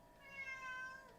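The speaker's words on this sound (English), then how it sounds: "That's my cat." A house cat gives one drawn-out meow at a home brewing session, faint and fairly close, with no talk over it.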